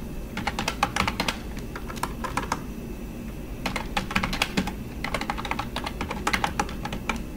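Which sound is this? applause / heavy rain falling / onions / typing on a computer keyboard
typing on a computer keyboard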